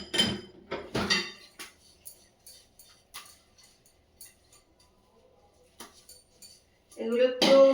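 Dishes being washed after a meal at home: scattered clinks and knocks of plates and utensils, fairly close, with a voice talking at the start and end.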